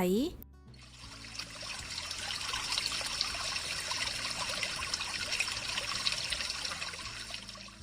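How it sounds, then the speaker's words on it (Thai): Water flows in a steady, hissing trickle, continuous and moderately loud, after a brief spoken voice at the very start. "เสียงน้ำไหล"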